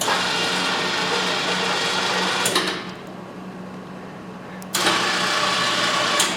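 A winch on a 2023 Polaris Ranger 1000XP Crew raising a KFI snowplow whirs steadily and loudly, stops briefly, then whirs again nearby.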